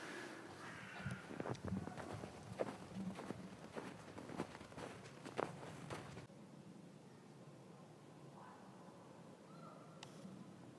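Footsteps walking on a snowy path crunch in a loose, irregular rhythm at close range for several seconds, then give way to quiet outdoor ambience with a faint distant bird call.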